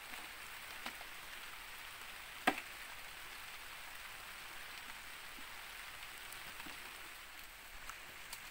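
Steady rain falls on an outdoor vegetable plot, a soft continuous patter with a single sharper drop or tap partway through, with no voices.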